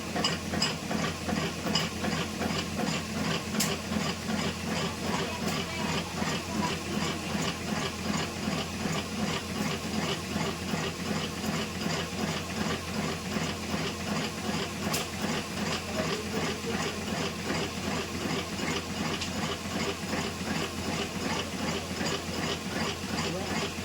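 A batasa sugar candy making machine runs with a continuous rhythmic mechanical churn, pulsing evenly at moderate volume with occasional sharp clicks, and no talking over it.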